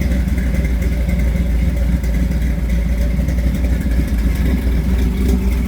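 A deep, rumbling 350 V8 engine in a 1954 Chevrolet 3100 5-window pickup idles steadily, its exhaust burbling loud and close with a constant throaty drone throughout.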